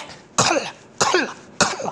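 A voice imitates a harsh, tense, choppy cough, giving three sharp, clipped bursts evenly spaced and close up, with no other talk.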